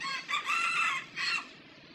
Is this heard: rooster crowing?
yes